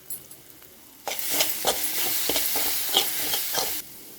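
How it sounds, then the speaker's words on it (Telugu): Coconut paste tossed into hot tempering oil in a pan sizzles loudly for about three seconds with scraping stirs, set against quiet kitchen background before and after. "మనం ప్రిపేర్ చేసుకున్న కొబ్బరి పేస్ట్ ఇందులో వేసి వన్ మినిట్ ఫ్రై చేయాలి"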